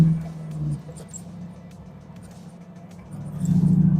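A 2001 Plus 8 car's engine rumbles loudly at first, eases to a low, quieter drone, then swells again as it accelerates near the end.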